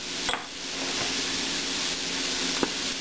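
A quick sauté in a pan while making a low-carb ultra-thin crust pizza: steady broadband sizzle that holds for the whole stretch, broken by two sharp clicks of a utensil against the pan, with no talking.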